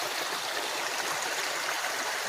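Small waterfalls tumble along a little stream on a farm boundary, a steady, close, full-bodied rush of water with no voices over it.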